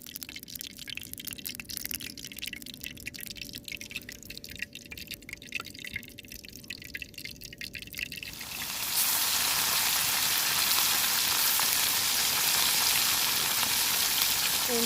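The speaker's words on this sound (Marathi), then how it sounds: "आता तेल तापल्याच्या नंतर तळणार आहे" Ambale fish frying in a deep kadai of hot oil, faint drips and crackles at first, then a loud, dense, steady sizzle that bursts in midway and holds to the end, close by with no talk.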